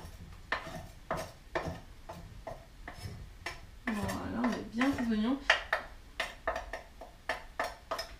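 Onions go into a pan for rice pilaf with smoked sausages, marked by a run of sharp utensil clacks and taps against the pan, with a brief sizzling burst in the middle and quiet gaps between hits.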